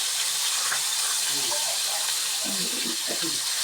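Tuyo, dried fish, frying in a pan gives a steady, loud, bright hiss that runs unbroken throughout, with a voice speaking faintly underneath.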